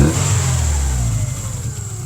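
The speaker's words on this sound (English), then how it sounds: "I love the mechanical sound of this engine." A Mitsubishi Eclipse GSX engine revs steadily and close by, with a continuous mechanical drone and a high whine over it. No voices are heard.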